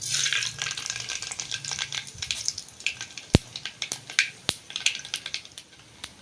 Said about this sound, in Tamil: எண்ணெய் சூடாயிட்டு கடுகு சேர்த்துக்கிறேன்